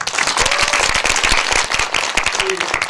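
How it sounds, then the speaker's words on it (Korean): Warm applause from a film screening audience for the director of the 2014 Korean film 썸남썸녀, loud, close and continuous, with crisp individual claps and a faint voice briefly underneath. "여러분들의 마지막으로 뜨거운 박수 부탁드립니다"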